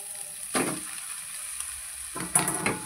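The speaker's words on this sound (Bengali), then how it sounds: "এবার এর মধ্যে আমি পাস্তাটা যে সিদ্ধ করে রেখেছিলাম ওটা দিয়ে দেবো।" Boiled pasta tossed into a pan with a fried egg, sizzling steadily with two bursts of scraping and stirring, one near the start and another pair toward the end.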